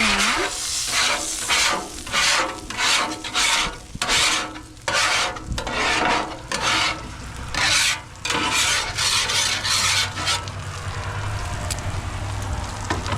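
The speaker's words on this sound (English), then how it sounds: "Let's scrape this down." A metal scraper drags repeatedly across a Blackstone griddle, loud rasping strokes in an uneven back-and-forth rhythm over a steady sizzle from the cooking surface, with no talking.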